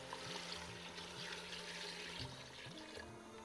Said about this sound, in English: So we can add the water now, because we need the lamb to cook.